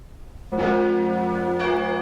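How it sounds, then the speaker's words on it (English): Church bells in the north of England ring out as a rebellion signal in 1569, with a loud, sustained metallic tone that starts abruptly after a quiet opening and carries on without any speech. "churches all over the north rang their bells backwards"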